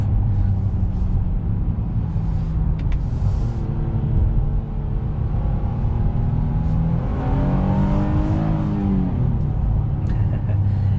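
A 2022 Honda Pilot's 3.5-litre V6 pulls under acceleration, heard from inside the cabin as a steady rumbling drone that rises in pitch through the gears, with a clear revving surge near the end.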